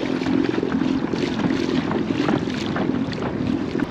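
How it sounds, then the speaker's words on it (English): Kayak driven at top speed by a Watersnake electric motor into wind and current: steady broadband wash of water and motor hum with wind buffeting the microphone, continuous and close throughout, no talk. "I'm running at top speed with this electric motor"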